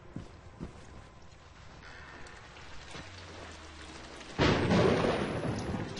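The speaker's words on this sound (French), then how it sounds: "il pleut dehors. Putain, comme pourquoi putain. Par hasard, tout le monde est en train de crier, puis il pleut dehors. Enfin, il y a de l'orage." In the horror video game Outlast, a thunderstorm plays out: faint rain and distant rumbles build into a loud thunder crash that keeps roaring under steady rainfall.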